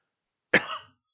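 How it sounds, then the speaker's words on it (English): A single harsh cough, close and sudden, trailing off quickly into silence. "Sorry about the cough."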